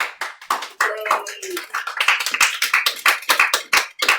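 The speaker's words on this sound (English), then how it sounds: "This is the best clapping class ever." A classroom of students claps in a quick, uneven rhythm, close and fairly loud, with voices talking over the clapping throughout.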